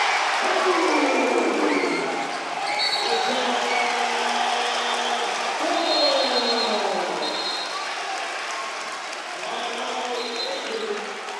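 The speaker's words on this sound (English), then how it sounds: "this Trojans crowd starting to get loud here" A Trojans crowd at a high school boys' basketball playoff game makes steady, rising noise that swells and stays loud. Whistles and squeaky sneakers can be heard in the gym, along with faint voices.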